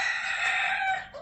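A rooster crows once, a loud and close cock-a-doodle-doo lasting just over a second, heard alone.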